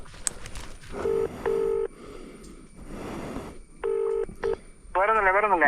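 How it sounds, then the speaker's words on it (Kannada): Telephone keypad tones sound as a number is dialed: several clear, sustained beeps in separate groups, then a warbling tone at the end, with quiet background noise between them. "ಇಲ್ಲಿಂದ ಫೋನ್ ಮಾಡಿ ಹೇಳುವ."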